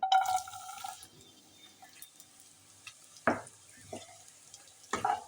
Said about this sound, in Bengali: গাজরগুলো আমি ভালোভাবে নেড়ে চেড়ে নেব এবং খুব ভালোভাবে ভেজে নেব